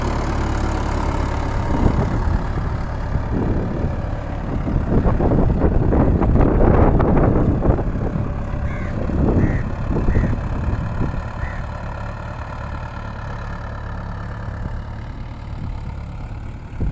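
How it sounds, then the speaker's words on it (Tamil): A steady tractor engine idling with a low, continuous rumble and some wind buffeting the microphone; the motor swells slightly midway, then settles. "இப்போ டிராக்டரும் பெற போகுது."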